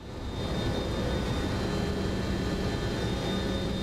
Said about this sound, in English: Long takeoff roll here.